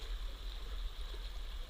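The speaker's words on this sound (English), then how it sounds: "Here we're looking at Walker Creek, a tributary" Walker Creek, a tributary of Tenmile feeding a water treatment plant, flows with a steady rushing broadband wash of water, continuous and moderately close with no voices.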